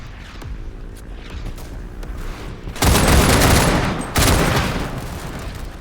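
Incoming artillery barrage in a World War One battlefield video game, Over The Top WW1: a steady rumble of distant gunfire erupts into two loud, close crashing explosions that roll off into noisy debris.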